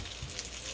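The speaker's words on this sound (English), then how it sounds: "I'm frying it now in a little bit of butter" A Monte Cristo sandwich sizzles in a little butter in a pan, a steady close crackle and hiss that runs unbroken and evenly loud throughout.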